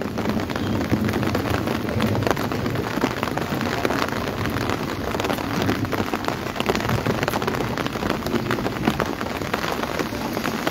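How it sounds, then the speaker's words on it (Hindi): Light drizzle falling in Shimla, a steady fine patter of raindrops hitting surfaces close by, constant and unbroken with no voices. "रिमझिम बारिश का दौर राजधानी शिमला में चल रहा है सुबह से ही।"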